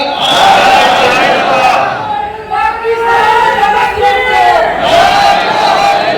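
Rally crowd in Pakistan chanting slogans together, loud massed voices rising and falling in repeated call-and-response bursts that fill the space.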